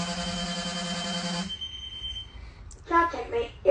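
A steady electronic school bus alarm beeps loudly for about a second and a half, then stops, and a person starts talking.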